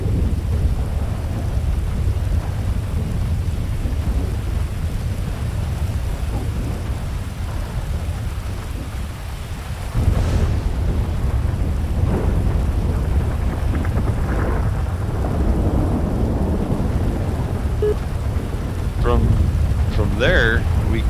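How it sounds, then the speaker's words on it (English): Steady heavy rain pours throughout in GTA V with LSPDFR, with deep rolling thunder, a loud crack near the middle, and faint voices murmuring underneath. "let that thunder kind of ride out for a second."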